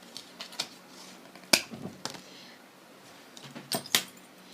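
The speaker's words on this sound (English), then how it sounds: "it's a love heart key ring" A love heart charm key ring with keys jangles in a few short metallic bursts, close and fairly quiet, with scattered clicks between them and no talking.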